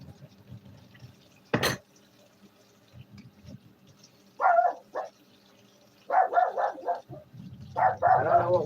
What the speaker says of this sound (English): I don't know what we're barking at.